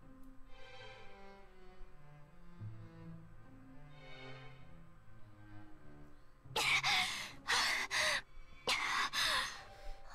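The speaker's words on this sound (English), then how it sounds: "Heavy breathing." A character in the video game XBlaze Lost: Memories breathes heavily while fleeing, with a series of loud, rapid gasping breaths in the second half over soft background music.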